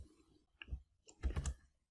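Typing on a computer keyboard, heard as a few sparse, quiet clicks in near silence.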